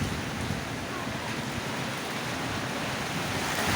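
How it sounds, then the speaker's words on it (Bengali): The strong wind of a night-time Kalbaishakhi storm, the first of the year, roars as a constant broad rushing noise that stays loud and unbroken throughout. "বাতাসের একটা শব্দই আলাদা"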